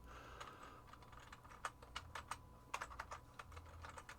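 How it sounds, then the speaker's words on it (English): Fingers tap out a burst of typing on a computer keyboard, quick irregular clicks heard close and quiet against a soft room background. "if you open up a browser and just type"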